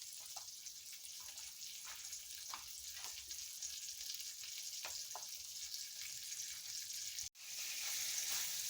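Beef steak and broccoli stir fry sizzles steadily in a pan, a continuous close frying hiss with faint pops and a brief gap before the sizzle resumes louder.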